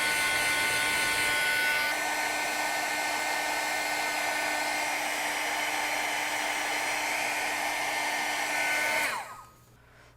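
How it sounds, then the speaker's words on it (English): A heat embossing gun melting embossing powder, a steady loud electric whir with a high whine that runs unbroken for about nine seconds, then cuts off sharply. "you next want to heat up your embossing gun and melt"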